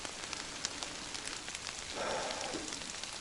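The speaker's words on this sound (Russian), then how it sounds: "Сейчас дождь начался" Rain begins in the taiga forest, a steady broadband hiss of drops with faint crackling patter, even and continuous, swelling slightly partway through.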